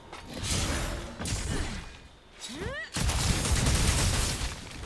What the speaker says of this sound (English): Let's go ahead and do the claw shot and see what it does.